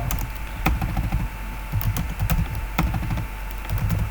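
Rapid clicking of keys on a computer keyboard as a prompt is typed, with uneven bursts of keystrokes and brief pauses, close and fairly clear with no speech.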